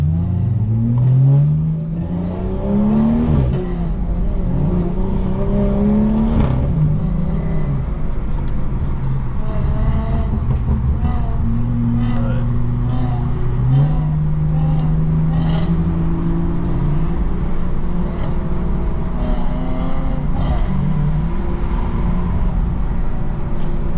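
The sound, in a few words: car driving on highway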